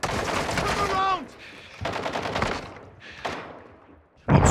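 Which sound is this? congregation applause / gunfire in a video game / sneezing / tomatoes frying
gunfire in a video game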